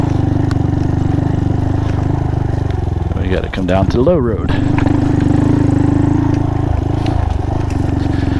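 A Honda Monkey 125 on an offroad trail, its small engine puttering steadily up close, with a rider talking briefly over it partway through and the engine note dipping and rising.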